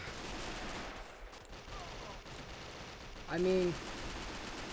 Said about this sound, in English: A lot of rifles. Firing off.